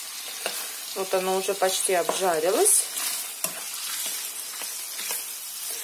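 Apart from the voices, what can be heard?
meat frying in sunflower oil for pilaf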